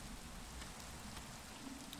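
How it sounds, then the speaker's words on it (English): Hail falling during a storm in the Minecraft video game: a steady, dense pattering wash that runs unbroken through the whole stretch at moderate level, with no voices. "It's hailing."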